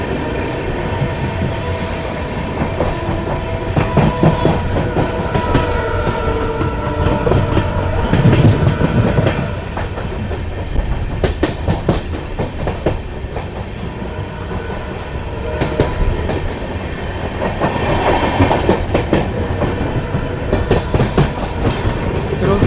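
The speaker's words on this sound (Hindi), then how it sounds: "गलियों से निकलती हुई हमारी ट्रेन।" The Amritsar-Bikaner Superfast Express rolls along with a loud continuous rumble and repeated clickety-clack of wheels over rail joints, heard from on board and steady throughout.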